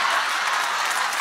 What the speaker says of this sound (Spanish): ¡El aplauso para Valentina!